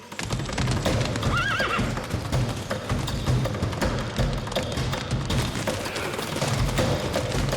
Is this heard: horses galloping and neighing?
yes